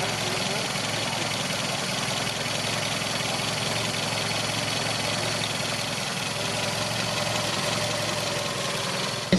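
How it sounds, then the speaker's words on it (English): A 1959 Volvo Amazon Sport engine ticking over at idle, a smooth, quiet, even running hum that holds steady throughout with faint light tappet ticking and no talk. "The tick over on this engine, normally they sound a little bit tappety."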